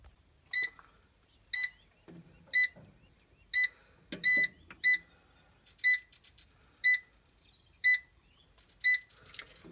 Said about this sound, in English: You hear the beeping?